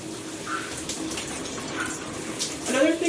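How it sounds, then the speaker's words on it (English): Shower water runs steadily while conditioner is rinsed out of long hair, a continuous hiss with a brief surge of splashing near the end; a voice can be heard faintly. "now we're gonna rinse this conditioner out"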